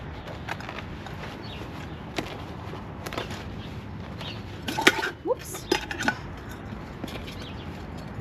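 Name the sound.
handling a camping billy pot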